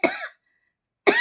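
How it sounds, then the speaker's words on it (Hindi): A person coughs sharply twice, with a short silent gap between the two bursts. The coughs are close and loud, and no other sound is heard. "बहुत ज्यादा खांसी होगी"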